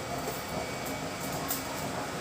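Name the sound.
electric blower running on used-oil stove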